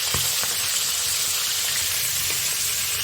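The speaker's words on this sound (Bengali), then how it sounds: "কড়াইয়ে অল্প তেল দিয়েছি, এবার ইলিশ মাছের মাথাগুলো ভেজে নিই।" Hilsa fish heads fry in a little oil in a wok, giving a loud, dense, hissing sizzle that holds steady from start to finish with a few faint taps.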